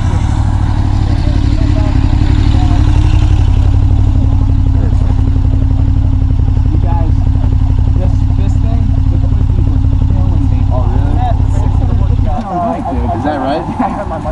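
A highway motorcycle cruises at speed, with a loud, steady engine drone and wind roar that fade near the end.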